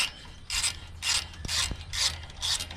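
Steel thread tap turned by hand to cut and clean the thread of a bolt, giving five evenly spaced, close rasping ratchet-like bursts with short quiet gaps between them.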